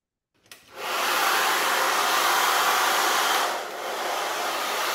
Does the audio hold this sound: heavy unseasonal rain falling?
no